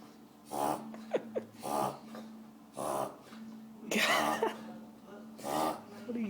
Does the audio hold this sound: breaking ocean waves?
no